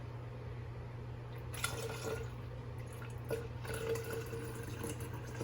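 Hypnotiq liqueur pours into a drink mix, a soft trickling and dripping of liquid against a steady low background hum, faint and close with a few brief splashes and no speech.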